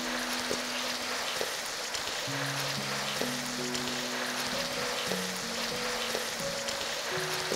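Fried chicken wings stirred in boiling fish sauce in a pan give a steady, close sizzling and bubbling hiss that runs unbroken throughout, with soft tonal humming in the background.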